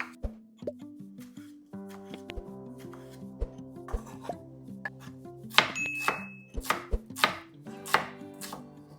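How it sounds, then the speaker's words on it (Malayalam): Knife chopping tomatoes and onion on a board in irregular taps, speeding into quicker, sharper cuts in the second half, close and clear with no voices. "തക്കാളി ഒന്ന് കട്ട് ചെയ്തെടുക്കുന്നുണ്ട് കേട്ടോ ആക്ച്വലി സവാളയും കൂടെ കട്ട് ചെയ്യണം"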